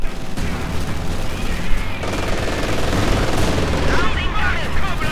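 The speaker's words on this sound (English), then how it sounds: "Enemy aircraft. And another strafing run." Loud, dense bursts of rapid gunfire from an enemy aircraft strafing run in the World War II strategy game Company of Heroes 2, a continuous crackling barrage mixed with booming battle noise.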